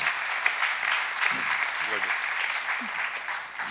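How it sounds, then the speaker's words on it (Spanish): Audience applause at a Catalan policy talk on LGBTI issues, a steady wash of clapping at moderate distance with a few brief voices poking through. "Un aplaudiment, sisplau."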